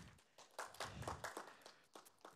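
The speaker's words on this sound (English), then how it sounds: "Big round of applause for Maxi." A small audience at the gamescom congress gives a brief round of applause, a handful of distinct, fairly faint claps in an irregular rhythm.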